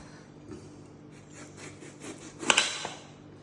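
A ripe seedless jackfruit is cut open with a knife, giving faint, intermittent rubbing and sawing strokes through the fibrous fruit, with a few sharper scrapes near the end, in an otherwise quiet room.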